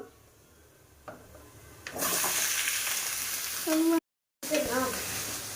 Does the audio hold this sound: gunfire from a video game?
no